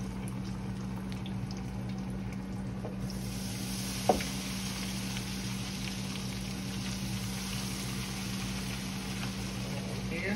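Catfish pieces coated in Kikkoman tempura mix fry in a skillet of oil at about 370 degrees, a steady close hiss and sizzle running without a break under a low hum, with one brief clatter partway through.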